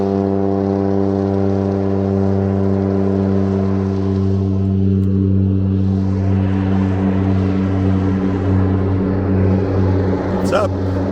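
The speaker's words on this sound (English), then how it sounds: "there's a Harbor Air plane getting ready to take off" A Harbor Air floatplane at Maple Bay on southern Vancouver Island drones steadily as it readies for takeoff, its propeller engine a strong sustained hum with layered tones, heard from a short distance beside calm water.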